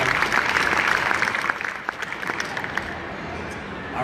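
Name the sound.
audience applause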